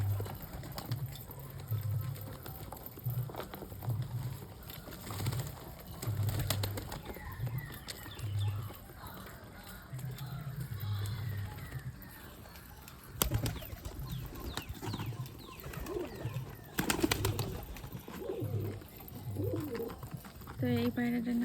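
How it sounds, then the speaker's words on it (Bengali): Pigeons coo steadily close by, low rhythmic throaty calls repeating throughout, with occasional wing flaps, clicks and a voice talking at times. "দেখুন কত রকমের পায়রা আছে।"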